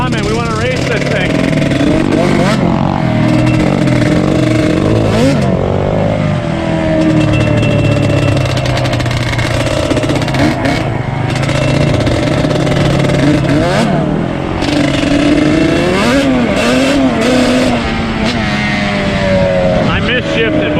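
Yamaha Banshee 350, found abandoned, screaming loud and close as its engine revs hard into the powerband, with a continuous raspy two-stroke roar rising and falling through gear changes for the whole stretch.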